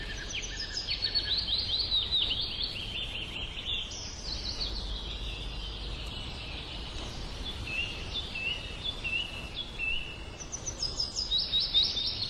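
Weaver birds call in a repeated run of high, thin chirps and twittering, moderately close, over a steady background hiss with no talking.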